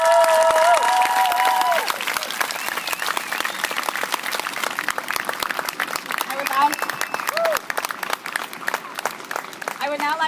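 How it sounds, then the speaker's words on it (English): Sustained applause from an audience at a Relay for Life event honouring cancer survivors, many hands clapping in a dense, ongoing patter, with some cheering and a voice audible early on. "Please give our survivors one more round of applause."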